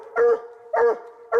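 A raccoon hunting hound barks three times in steady rhythm, loud and close, each bark a full-throated bay with a slight whine, no voices over it.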